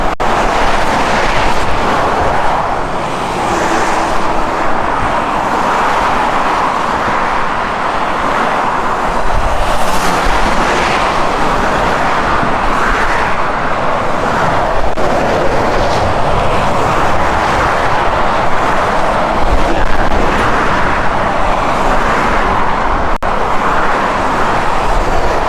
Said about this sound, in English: you can feel the vibrations, especially when a big truck drives by